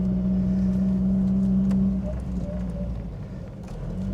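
From inside a Mk1 Ford Fiesta with a 1.1L engine being driven, a steady droning engine hum continues throughout, with a faint tonal whine early on.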